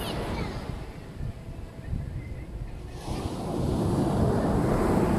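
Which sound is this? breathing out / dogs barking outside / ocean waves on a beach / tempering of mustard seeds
ocean waves on a beach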